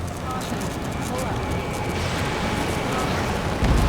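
Railgun fire in the Ace Combat 7 combat flight game rumbles as a sustained, heavy low roar with booming weight, running steadily throughout with a louder surge near the end, under radio chatter.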